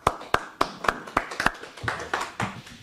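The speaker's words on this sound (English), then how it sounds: "Let's give them an applause." Hands clapping in a quick, steady rhythm at an awards ceremony, a handful of sharp claps that blur into looser applause toward the end, close and moderately loud.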